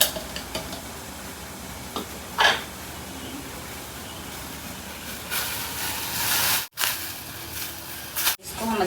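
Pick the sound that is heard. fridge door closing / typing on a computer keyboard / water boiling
water boiling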